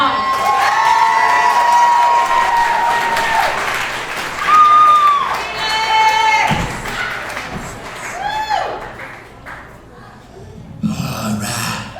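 A comedy showcase audience at Tumbleroot Brewery claps and cheers for a comedian, loud and sustained, with whoops, shouts and scattered thuds; the crowd noise swells and fades across the stretch.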